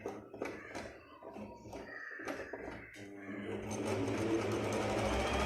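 A Usha Janome Stitch Magic sewing machine starts with a few short stitch bursts and handling clicks, then settles into a steady, close running hum.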